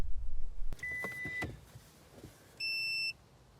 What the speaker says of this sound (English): Now we're going to listen to the beeps.